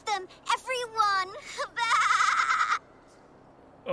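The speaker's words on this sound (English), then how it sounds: "Where are these toy goats, child?" Toy Yule goat bleating in Assassin's Creed Valhalla, a series of close, loud, wavering bleats in quick succession with one long drawn-out cry, then a brief pause.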